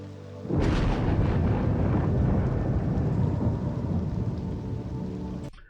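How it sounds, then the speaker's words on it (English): Lightning strike in Cities Skylines 2, a sudden loud crack of thunder rolling into a long rumbling roar over heavy rain that fades slightly before cutting off. "when we implemented the thunder, like the lightning strike sounds"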